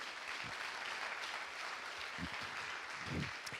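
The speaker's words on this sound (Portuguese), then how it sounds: "Então dá uma salva de palmas para o Senhor Jesus." A church congregation claps together in a steady, fairly faint wash of applause that swells slightly toward the end, with no voices over it.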